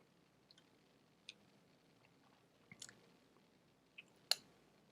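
Soft chewing close to a microphone, food with a little mozzarella cheese in it: faint mouth clicks and squishy bites at irregular moments over a quiet background, with no talking.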